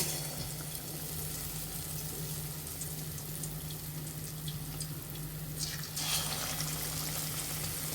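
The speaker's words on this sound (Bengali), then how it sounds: "এখন তেলে ভেজে আমরা এখন বেগুনের চপগুলো দিয়ে দিব" Battered eggplant chops frying in hot oil, a steady, close hiss of sizzling that holds throughout and brightens near the end, with no talking.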